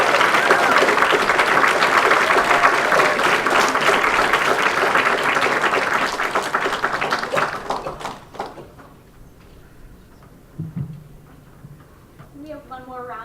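High school poetry slam audience bursting into loud, dense applause after a poem, clapping sustained for about eight seconds before fading out, followed by a quieter stretch with a speaking voice.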